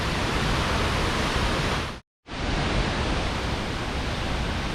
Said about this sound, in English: And this is the waterfall.